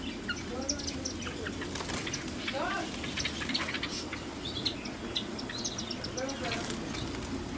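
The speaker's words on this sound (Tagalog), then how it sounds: "Ito yung mga ibon ko, guys." Pet birds kept alongside fish chirping in small high bursts, with steady fluttering and rustling beneath, moderately faint and ongoing.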